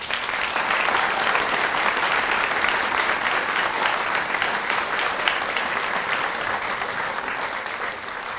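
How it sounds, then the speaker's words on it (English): Audience at the 2017 Hope Awards elementary ceremony applauding the honorees, a sustained, even roar of many hands clapping that holds steady for several seconds with only faint voices beneath. "Let's give one more round of applause to all of our honorees."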